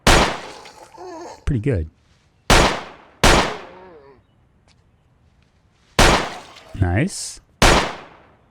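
Gunshots in the Project Zomboid zombie survival game, five sharp loud cracks spaced irregularly over several seconds, each with a short decaying tail, mixed with brief casual talk and light laughter between shots.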